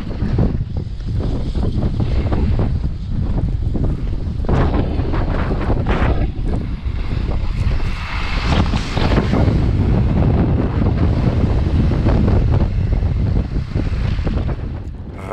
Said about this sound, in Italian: Raffica di vento molto forte e anche la seggiovia si ferma per il momento.